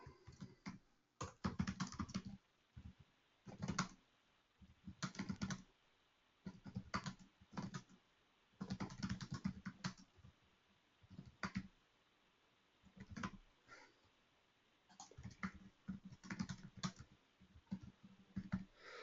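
Typing on a computer keyboard in bursts of quick, crisp clicks separated by short pauses, fairly close and clear with no talking over it.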